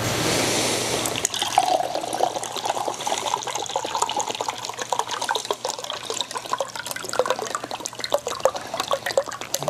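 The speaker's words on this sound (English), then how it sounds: "So I pour it in the water like that." Nutrient solution poured into a 25-gallon hydroponic reservoir of water: a close, steady splashing trickle that runs unbroken for nearly ten seconds, with no talking.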